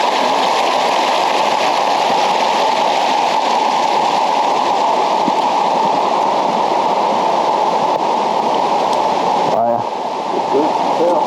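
Mitchell Falls waterfall on the Gibb River Road: a steady, dense roar of falling water fills the scene without a break, with a brief dip near the end.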